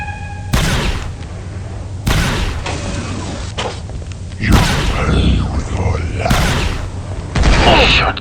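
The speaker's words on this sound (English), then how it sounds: "Shotguns? I didn't think anyone used projectile weapons anymore." Shotgun fire in the video game Star Wars: Republic Commando: five heavy, booming blasts at irregular intervals, each with a sharp attack and a short decaying tail, loud and close over a low ambient rumble.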